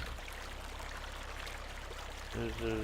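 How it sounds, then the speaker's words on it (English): Water pumped from a creek into tanks in Farming Simulator 17 makes a soft, steady gushing stream, with a low tonal hum joining in near the end. "Even though it's pumping it right out of the creek."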